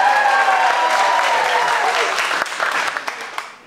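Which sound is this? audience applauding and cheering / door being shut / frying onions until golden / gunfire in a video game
audience applauding and cheering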